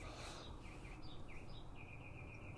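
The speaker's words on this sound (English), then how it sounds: "I don't know if you guys can fucking hear those birds." Faint, distant bird chirps come from outside a porch at night, a few short high tweets repeating over a low steady background hum.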